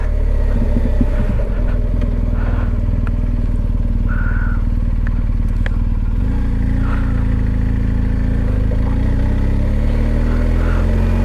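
A BMW GS motorcycle's exhaust rumbles steadily and loudly up close, a constant low engine drone that shifts slightly in pitch midway, with faint clatter on top.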